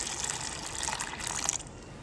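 Soaking water from black gram drained into a wet grinder gushes and splashes steadily for about two seconds, a close, continuous pouring sound that eases off near the end.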